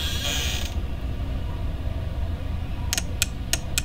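Mechanical clunks and creaks of a security door slamming shut in the horror video game Five Nights at Freddy's, a few sharp metallic clacks near the end over a steady low hum of office ambience.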